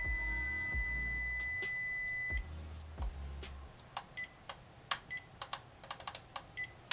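Sharp electronic beeps sound close by from an unplugged APC battery backup, first as a steady tone with a low hum, then as a quick irregular series of short chirps.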